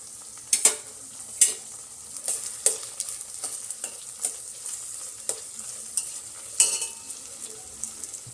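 Vegetables for veg fried rice are stirred with soy sauce in a frying pan, giving a low sizzle broken by repeated sharp scrapes and clinks of the utensil against the pan.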